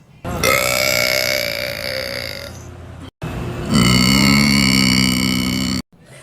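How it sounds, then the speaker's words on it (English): A person lets out two long, loud, drawn-out burps back to back, each rumbling for a couple of seconds and separated by a brief silence, close to the listener. "Look, I'm tired of my customers giving me shit about my burping."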